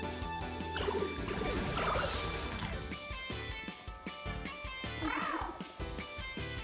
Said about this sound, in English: Meow. Sounds like a cat.